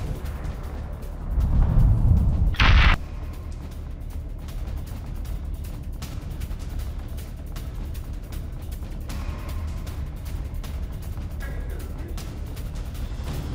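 A single heavy blast from a Hezbollah missile strike on an Israeli drone, a muffled low boom that rises and ends in a sharp burst, followed by a long stretch of dull, steady background rumble.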